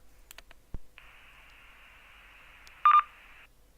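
DTMF tone sequence keyed on a Baofeng T1 UHF mini radio to open a repeater: a steady hissing carrier with a short, louder burst of dialing tone near the end, preceded by faint clicks.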